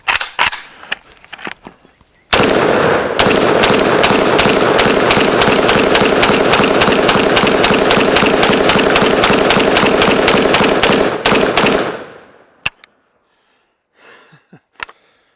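A Palmetto State Armory AK-P pistol fires a long, steady string of loud rapid shots close up. A few single shots come before it and scattered clicks follow once it stops.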